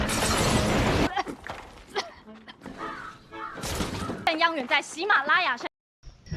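A simple house collapsing and breaking apart, heard as a loud, harsh crashing burst lasting about a second, then a second noisy rush midway, with voices talking between and after.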